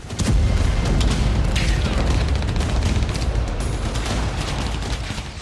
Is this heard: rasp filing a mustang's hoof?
no